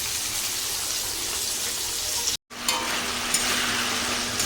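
Potatoes sautéing in a spiced gravy for Bengali dhokar dalna, a constant hissing sizzle with faint stirring scrapes, briefly cut off by a short silent gap before the frying resumes.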